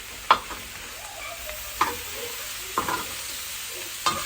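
Cumin and salt fry in a pan under a faint, quiet sizzle, broken by four soft, spaced stirring scrapes.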